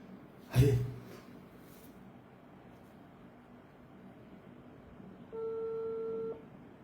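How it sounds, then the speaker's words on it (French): Outgoing telephone call tone, a steady electronic ringback tone sounding once for about a second, alone and fairly quiet, after a short bump at the start. "Le téléphone sonne, hein, les gars."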